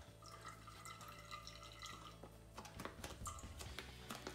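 Finings A squeezed from a cut sachet into a batch of homebrew banana wine, giving a soft trickle and drips of liquid with a few louder splashes near the end, close and fairly quiet, no talking.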